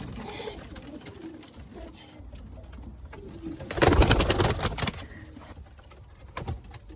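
Feather-footed pigeons and their chicks coo in a coop, a low murmuring bird call that swells into a louder flurry midway, with shuffling and rustling around it and no speech.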